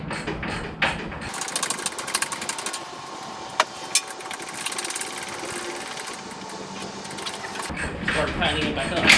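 Bolts being tightened on the bumper of a 2003 Toyota 4Runner V8 with 200K miles, giving a dense run of metallic ratcheting and mechanical clicking close up, with a few sharp ticks and brief voices before and after.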